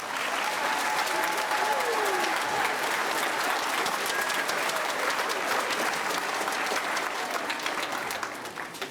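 Sustained, dense applause from an audience at a school winter choir concert for elementary and middle school singers, steady and full for the whole span before easing slightly at the very end.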